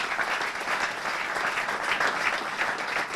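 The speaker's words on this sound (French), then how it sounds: "nous recevons Madame Aurélie Njila, que nous acclamons avec plaisir et joie" An audience applauds steadily and warmly to welcome a guest at a church question-and-answer gathering, with dense continuous clapping at moderate distance and no talk over it.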